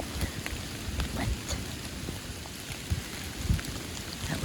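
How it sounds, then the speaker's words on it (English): Steady rain falls outdoors with gusting wind during a late-autumn deer hunt, a continuous dense patter with occasional louder drop hits and rumbling gusts, no voices. "It's raining pretty good."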